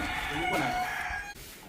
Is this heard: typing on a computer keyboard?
no